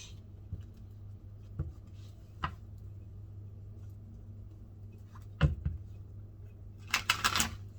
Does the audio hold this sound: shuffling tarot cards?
yes